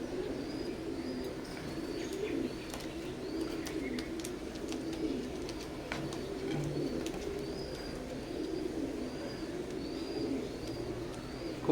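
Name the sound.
teddy pigeons cooing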